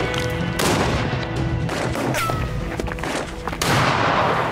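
Gunfire in the video game As Dusk Falls, with several loud, close shots and bursts in quick succession over a dense, noisy game soundscape.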